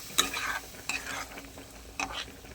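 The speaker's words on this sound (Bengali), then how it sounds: "ডিমের ঝোলের জন্য আলু ভেজে মশলা দিয়ে কষিয়ে নিলাম।" Potatoes frying with spices in a pan for egg curry, a soft steady sizzle broken by three distinct scrapes of a spoon stirring against the pan, fairly quiet and close.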